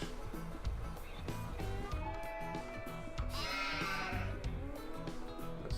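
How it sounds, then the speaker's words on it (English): Sheep bleat repeatedly in a farming simulator video game, with wavering calls layered over a steady rhythmic background loop and some faint voice. "sheep look like they're doing alright."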